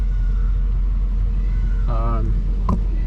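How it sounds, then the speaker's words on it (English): A 1983 Mercedes 500SEC V8 idles at about 600 RPM with a low, steady rumble, while someone talks over it and a brief tonal whine cuts in near the end. "this car idles around 600 RPM, perfect"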